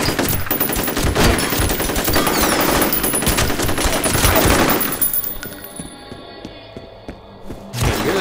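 Sustained automatic gunfire from the F.E.A.R. video game, dense and loud for about five seconds, then easing to quieter scattered shots and thuds before a final burst near the end.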